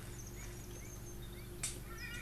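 A horse whinnies in the Wild West video game Call of Juarez, a faint, brief call over a low steady hum of game ambience and distant chirping birds.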